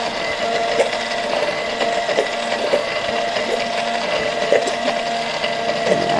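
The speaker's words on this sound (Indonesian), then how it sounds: "hand blender atau hand mixer ya." A hand blender whirs steadily, close and loud, as it mixes a liquid in a bowl. The motor hum stays continuous throughout and carries faint rhythmic knocks from the blade, with no speech.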